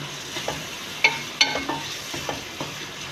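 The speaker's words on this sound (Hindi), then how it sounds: "प्याज को हम थोड़ा सा फ्राई करेंगे।" Onions frying in a pan for a gobhi chicken curry, with light sizzling under a series of near, sharp stirring scrapes and clinks of a spoon against the pan.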